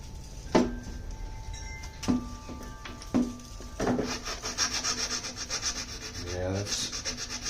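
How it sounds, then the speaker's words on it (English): Sandpaper rubs against the wood of a mandocello under construction in a few short separate strokes, then in a longer run of quick back-and-forth scrubbing. It sounds close and dry, and no one speaks. "Let's take our sandpaper real quick."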